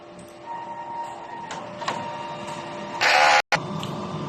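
DTF printer running a head clean: a steady mechanical hum with faint clicks, then a loud burst of pump or motor noise that cuts off abruptly before the hum resumes.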